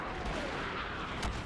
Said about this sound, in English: Let me do an orbital strike